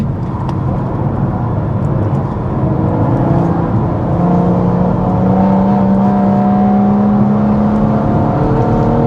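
A tuned 500 bhp BMW M140i driven flat out on a race track, its engine roaring steadily with a rising tone as it climbs through the revs, close and loud with wind and road noise underneath.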